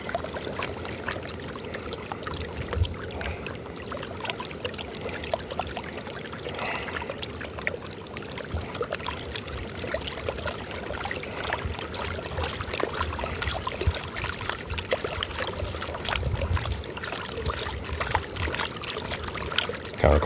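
Water swirls and sloshes softly in a Turbo Pan gold pan during panning, a continuous low trickling wash with small splashes and no voices.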